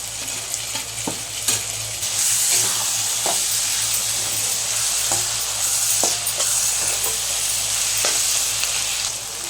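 Eggplant and dried fish curry sizzles steadily in a pan as tomato goes in, with a constant close frying hiss broken by scattered clicks of stirring.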